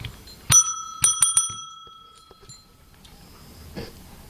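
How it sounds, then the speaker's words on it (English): An old drug store door bell rings close by, one clear strike followed by a quick cluster of jingling strikes whose tones ring out and fade. "nothing's interfering with the little bell"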